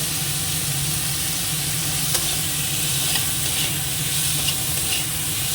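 Mango chutney with turmeric and salt fries in a pan with a steady close sizzle and hiss. Occasional clicks of stirring cut through the even frying noise.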